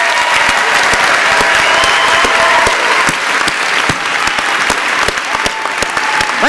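Loud, continuous applause from a university audience honouring scholars at an academic excellence ceremony, a dense wash of clapping with scattered sharper claps close by.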